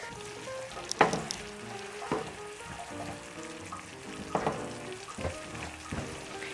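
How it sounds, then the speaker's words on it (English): Vegetables for gluten-free turkey stuffing sautéing in a pan, a soft continuous sizzle with sharp clinks and scrapes of a utensil stirring, close by with no talk. "you just want to saute it just a bit"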